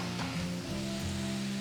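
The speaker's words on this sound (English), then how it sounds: "the only reason I've added the sugar in there is to caramelize the meat and the onions that we are stir frying at the moment" Meat and onions with added sugar sizzle and stir-fry in a pan, a continuous close crackling hiss with low tonal hum beneath, no talking.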